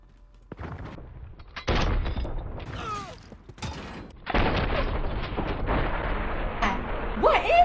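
AA-12 shotgun firing explosive rounds in Modern Warfare: a few heavy, booming blasts spaced seconds apart with mechanical clanks between them, loud and close, with someone talking over them.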